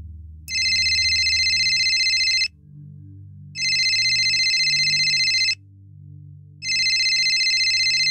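A telephone ringtone sounds in three loud, regular bursts of about two seconds each, separated by short gaps, over a low background hum with no talk.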